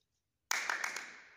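Hands clapping quickly three times in a row during a ball toss in a school PE lesson, close and crisp after a moment of silence, with the sound ringing briefly in the room.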